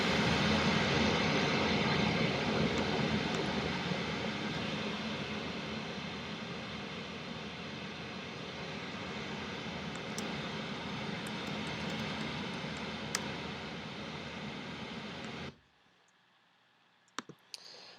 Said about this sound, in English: So I'm going to play Pink Noise again.